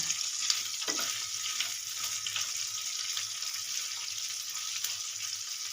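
Bitter gourd cooking for korola posto in a pan, with a steady close sizzle and occasional soft stirring scrapes throughout, no voices.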